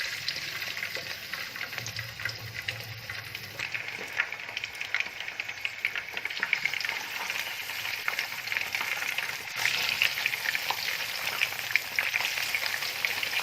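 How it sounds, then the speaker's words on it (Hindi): Fish pieces frying in hot ghee for a fish fry masala dish: a steady, dense sizzle and crackle that holds close and fairly loud throughout, with no talk. "तो अब हम इसमें फ़िश के इन पीसेस को डाल के तो फ्राई करेंगे।"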